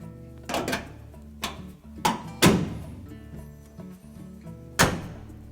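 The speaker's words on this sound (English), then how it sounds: "Now we're ready to put the main top down." The main top of a Whirlpool dryer is lowered and pressed into place after an igniter kit repair, producing several hollow sheet-metal thunks and clunks at irregular intervals, close by with faint clattering between.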